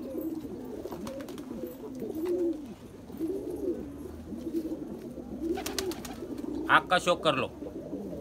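Nagpuri Sabza pigeons, a male and female pair, coo in low, repeated rolling phrases close by, with someone talking over them and a burst of sharper sounds near the end.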